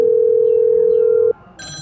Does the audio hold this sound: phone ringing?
yes